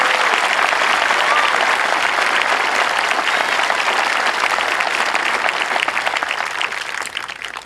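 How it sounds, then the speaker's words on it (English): A large crowd at an Air Force Basic Military Training graduation parade applauds steadily and loudly outdoors for several seconds, fading slightly toward the end. "how about a round of applause for our newest Master Military Training Instructor?"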